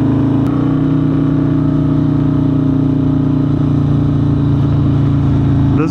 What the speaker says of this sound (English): This bike is just insanely loud, man.